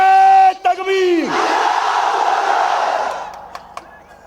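A large crowd at a political rally in Udgir roars back in unison after a chanted Nara-e-Takbeer call, a loud sustained mass shout lasting a few seconds, preceded by a single amplified voice and fading out at the end.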